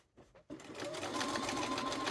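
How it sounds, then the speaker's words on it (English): Sewing machine top stitching around a coat collar, a brief tap before a steady rapid mechanical whirr of needle strokes running continuously, close and clear, with no talk. "we're just going to top stitch all the way around"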